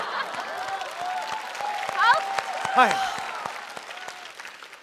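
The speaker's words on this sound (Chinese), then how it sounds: "这热烈的掌声" A studio audience at a comedy roast show gives warm, continuous applause, with a host's voice talking over the clapping.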